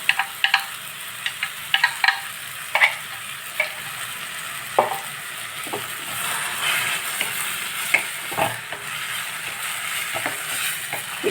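Finely chopped tomato and onion sauté in a hot pan for tomato bread upma, a close, steady sizzle broken by frequent sharp scrapes and clinks of a spoon stirring.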